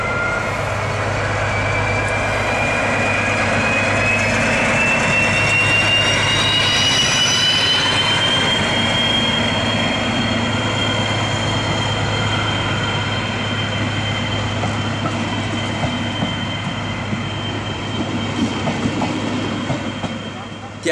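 Passenger train hauled by a DB Class 218 diesel locomotive, with loud sustained rumble, rolling wheel noise and a rising squeal of wheels on rails, close and continuous.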